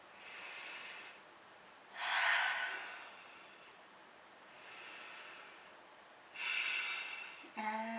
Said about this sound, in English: exhale through the nose.